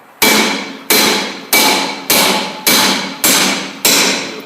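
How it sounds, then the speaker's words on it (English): Seven loud, evenly spaced metallic strikes of a ball peen hammer against a rusted-on car brake drum, each ringing clang decaying before the next blow, with no talking. "So we take a ball peen hammer, we hit it."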